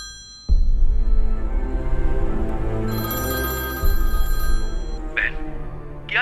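A phone rings out on a call to a brother in a Hindi-dubbed action film, with a loud, steady electronic ringtone that sustains and repeats, plus a brief brighter chime near the end.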